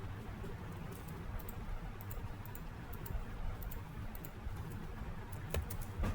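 Computer keyboard typing while writing Python code, a quiet patter of irregular clicks over a steady low background hum, no speech.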